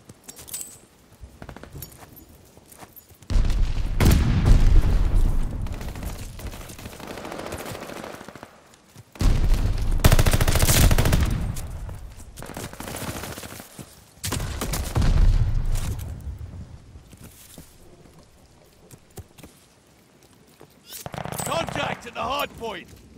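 Gunfire crackles in the Call of Duty: Vanguard video game during a Hardpoint match, with loud, repeated bursts of automatic fire separated by brief lulls, mixed with voices and game effects.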